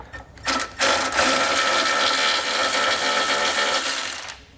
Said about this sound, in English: We'll remove that with a 12mm socket.